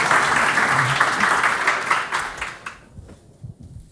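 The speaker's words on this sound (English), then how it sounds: "And I think they deserve another round of applause." An audience at an innovation forum's graduate student pitch contest applauds a student team with dense, steady clapping that fades out after about three seconds, leaving quiet room tone.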